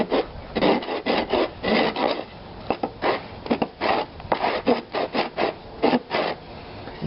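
A wooden war club is scraped back and forth across rough concrete by hand, a close, rhythmic gritty rasping in quick repeated strokes with brief gaps between them.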